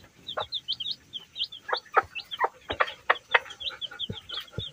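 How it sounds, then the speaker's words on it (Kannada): Country chicken chicks chirp in quick high peeps with low clucks mixed in, close and lively, a busy run of calls with short gaps. "ನೀರೆಲ್ಲ ಕುಡಿತದೆ ಮರಿಗಳು ಬಂದು"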